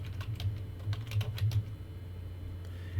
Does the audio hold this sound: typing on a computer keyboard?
yes